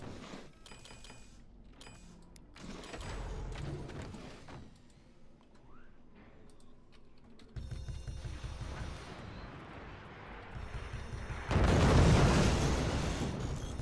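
Heavy weapons fire from the Forts video game, a rolling series of booms and bursts that builds into a loud, dense barrage near the end.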